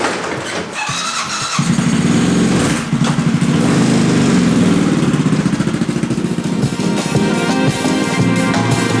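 A CCM Street Moto R motorcycle engine cranks and catches after a brief whir, then settles into a close, steady, buzzing run with a slight pulsing throb and no talking.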